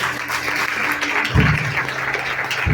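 A church congregation applauding during a worship service, a loud, dense wash of clapping from many hands that fills the whole moment without pause.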